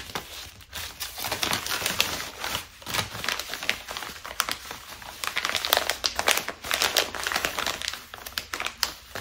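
Padded mailing envelope being folded and creased by hand, giving dense crinkly crackling bursts close up, steady through the whole stretch with no talking.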